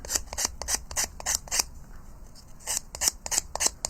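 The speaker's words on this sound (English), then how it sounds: "I'm just now going to trim these edges off." Scissors snip steadily along paper edges on a canvas, a close, crisp series of quick cuts in two bursts separated by a short pause.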